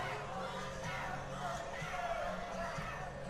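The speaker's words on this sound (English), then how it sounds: "This crowd's getting restless." Murmuring, restless crowd noise fills a fight venue at Nashville Underground, a low continuous rumble of many voices with occasional shouts, steady and moderately distant.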